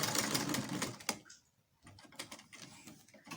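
Sewing machine making a back stitch while sewing a bodice, a short rattling run that stops, a pause of near quiet, then another brief burst of stitching, close and fairly soft.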